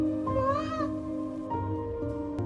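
A tiny lost kitten, found in the rain, gives two clear, high meows, the first rising and falling, the second shorter, close by with no talking.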